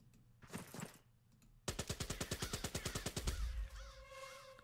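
Rapid machine gun fire from a Pacific war video game bursts out after a quieter stretch, a loud, evenly spaced string of about twenty shots, then fading into a ringing, tonal background.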